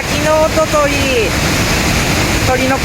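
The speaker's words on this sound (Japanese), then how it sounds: "すごいね、滝の音といい" Rushing waterfall in wild natural scenery, a steady broadband roar that fills the whole clip, with a few bird chirps rising over it near the start and again at the end.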